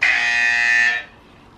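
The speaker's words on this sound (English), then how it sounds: "So we're gonna go with Chisambi's buzzer first" A single loud, harsh electronic buzz held steady for about a second, then cutting off abruptly into quiet.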